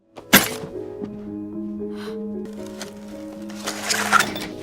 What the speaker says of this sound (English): the ghost becomes angry and ends up destroying the wedding photo of Jenny and Len.